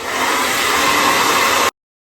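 A handheld blow dryer runs steadily at close range, a loud continuous whoosh drying a bond protectant layer before a quick weave wig install, cutting off abruptly after under two seconds.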